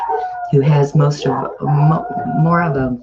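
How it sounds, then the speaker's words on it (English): Dogs barking and howling outdoors in front of a house, mixed under a person talking, with the barks and howls blending into the voice throughout. "Apparently, somebody's walking their dog in front of my house, so they're out there barking."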